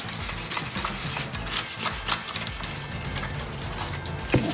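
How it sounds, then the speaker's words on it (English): Light sandpaper rubbed by hand over the rear bumperettes of a 1999 Porsche Boxster, a steady close scratchy rasping that runs continuously in short repeated strokes, with no talking. "Very, very light sandpaper."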